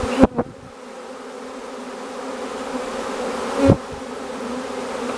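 A honey bee swarm settling onto a nuc hive outdoors, with a steady, dense buzzing hum filling the clip and a couple of brief louder knocks near the start and middle.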